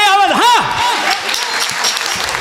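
An audience at a Vaishnav kirtan gathering keeps clapping steadily in a dense wash of applause, while a voice sings out a sweeping, warbling call over it near the start.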